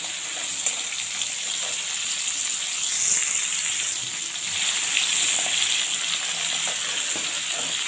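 Crab meat frying lightly in a pan, a continuous close sizzle with a gentle swell partway through and faint stirring, no voices.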